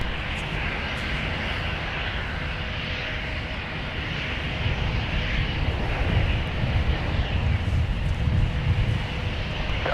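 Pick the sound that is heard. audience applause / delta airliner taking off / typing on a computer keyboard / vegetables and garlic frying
delta airliner taking off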